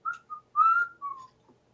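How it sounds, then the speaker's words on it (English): Someone whistles a short run of notes straight into a microphone, four or five close, fairly loud tones with brief pauses between them, and no talking. "please stop whistling"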